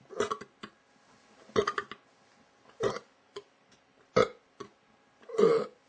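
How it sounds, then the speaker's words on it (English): A man burps several times in a row, close and fairly loud, with short pauses between the belches. "Sorry for the burping."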